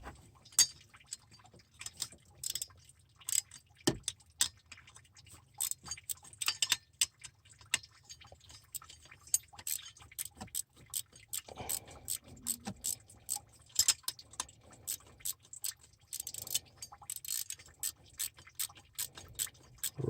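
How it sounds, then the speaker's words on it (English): A ratchet wrench loosens the water pump bolts on a Mitsubishi Delica L400, giving a long run of close, sharp metallic clicks in quick bursts with brief pauses, over a low background hum and no talking. "Ratchet wrenches are really handy."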